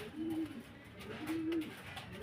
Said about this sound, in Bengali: কত বড় সাইজের কবুতর এবং মাদিটা নিজের বাচ্চা নিয়ে নিজে বসে আছে